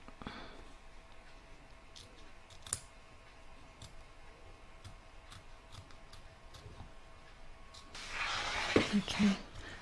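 Scissors trimming embroidery fabric between stitched letters make a few faint, scattered clicks and snips, followed by a louder rustle of the fabric being handled near the end.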